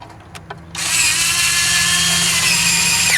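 A power tool runs coil cover bolts back into a 1995-2001 Nissan Maxima engine, starting after a few faint clicks and then whirring loud and steady up close.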